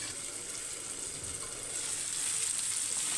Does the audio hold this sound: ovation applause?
no